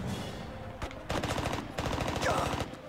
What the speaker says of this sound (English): Nice to see how I get on with the SMG.